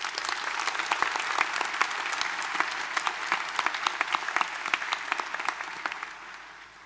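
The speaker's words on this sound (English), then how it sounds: "please join me in showing our appreciation to Miss Danielle Hornsby through a round of applause" A graduation ceremony crowd applauds in a dense, even roar of clapping, with sharper individual claps standing out near the front before the sound gradually dies down.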